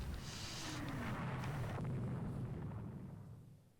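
Naval artillery fire in the Rule the Waves 2 naval warfare game: deep, rumbling booms rolling together into a sustained low roar that slowly fades away, with no voices.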